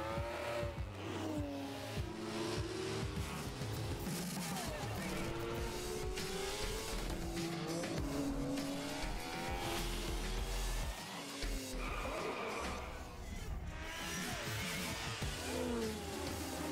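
Racing cars in the PlayStation 4 game Drive Club roar continuously, with engines revving up and down through gear shifts and repeated tire squeals, steady and loud throughout.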